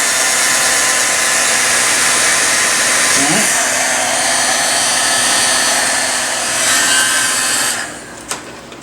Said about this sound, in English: Now we'll use the heat gun.